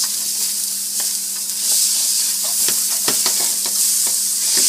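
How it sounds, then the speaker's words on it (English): Rice for paella Valenciana sizzles loudly in a paella pan over the fire, a bright continuous hiss with several scraping stirs clustered toward the end, close and alone. "and then you stir your rice in it."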